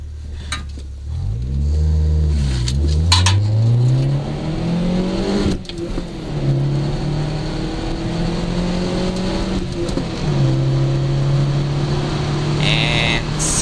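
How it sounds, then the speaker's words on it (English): A 1991 Nissan Sentra with a five-speed manual and a Flowmaster Super 10 exhaust accelerates from 0 to 60, heard from inside the cabin with no stereo. The engine note climbs loudly through the gears, with drops at each shift. "0 to 60, and the sound of the car with the Flowmaster Super 10 on it"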